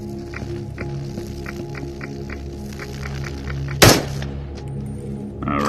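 Double-barrel shotgun in a game, a single sharp loud blast near the middle over a steady humming ambient bed, with faint rhythmic clicking throughout and a short mechanical reload thunk at the end.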